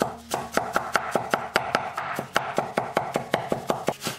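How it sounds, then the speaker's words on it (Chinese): A knife chops garlic cloves into mince on a cutting board, about twenty sharp, evenly spaced taps in a quick steady rhythm, close and alone. "再切成蒜末"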